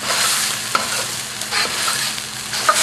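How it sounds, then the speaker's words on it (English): Chili, shallot, turmeric and diced tomatoes stir-frying in a hot wok, pushed up against the sides: a loud, bright sizzle with scraping stirs and a few metallic clinks of the utensil, no voices. "That's how you cook with a wok. Get it up against the sides where it's nice and hot."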